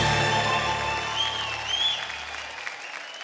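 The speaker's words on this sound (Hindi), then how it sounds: "जोरदार तालियां हो जाए" Loud applause from a studio audience at a televised singing competition, dense sustained clapping that slowly fades over a few seconds, no talking.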